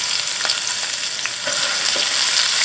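Broccoli rabe and potatoes fry over medium heat in a pan, giving a steady close sizzle broken by a few short scraping stirs, with no voices.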